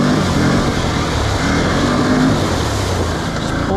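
A Can-Am Outlander 570 ATV plows through water, its engine chugging steadily under a constant wash of splashing and rushing water, loud and close throughout with no voices.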